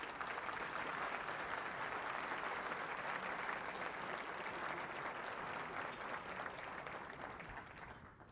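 A conference audience applauds steadily, dense clapping filling the room before tapering off at the end.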